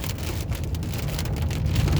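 Hail and heavy rain drumming on a car while driving home through a severe thunderstorm in Spokane, Washington; a dense, steady hiss and patter with low road rumble underneath, continuous and fairly loud with no speech.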